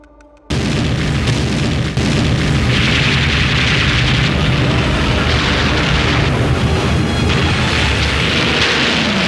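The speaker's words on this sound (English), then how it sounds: "The first bombs drop at 7:55." Bombs exploding during the Pearl Harbor attack, as captured on archival wartime film: a loud, continuous roar of blasts and rumbling that fills the whole stretch with no let-up and no voices.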